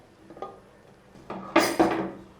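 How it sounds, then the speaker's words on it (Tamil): A pressure cooker lid set loosely on a pot of boiling mutton biryani rice, giving two close metallic clanks near the end after a few softer knocks, with no talking. "குக்கர் மூடி எடுத்து சும்மா மேலாக மூடி விடுங்க"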